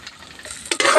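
Adobo with onions being stirred in a pan, home cooking in a rural setting: a soft scrape and rustle, then a loud burst of frying sizzle near the end as the mixture is turned, close and without talk.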